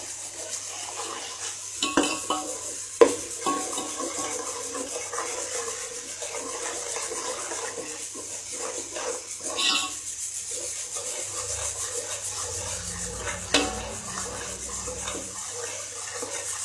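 Mutton stirred in a cooking pan gives soft scraping and rubbing sounds with occasional spoon knocks against the metal, over a faint steady background hum.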